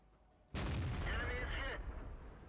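An ELC AMX light tank's gun fires in World of Tanks, a sudden loud blast that cuts in sharply and rolls on for about a second, with a game voice over the tail.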